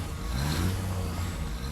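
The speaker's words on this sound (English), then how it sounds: "I know it's not nice hearing the revving" Vehicle engine in the video game Satisfactory revving hard, a loud, continuous, rough drone holding steady for the whole short stretch with no other sounds over it.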